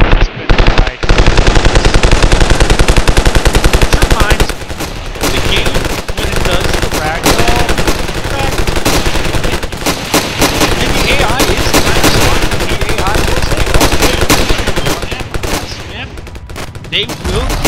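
Rapid machine-gun fire and gunshots with heavy explosive blasts from helicopter-fired rockets in the battlefield video game Ravenfield, loud and nearly continuous with brief gaps, dense overlapping bursts throughout.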